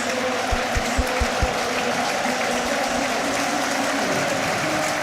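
Stadium crowd at the Etihad applauding Erling Haaland as he leaves the field during a Manchester City v Liverpool FA Cup quarter-final, a steady broad roar of clapping and cheering with a few low thumps near the start.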